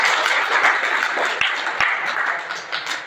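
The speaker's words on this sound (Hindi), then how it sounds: "एक बार जोरदार तालियां बजाइए" A seminar audience claps together in a college hall, a dense, continuous patter of many hands with a few sharper individual claps standing out, no voices over it.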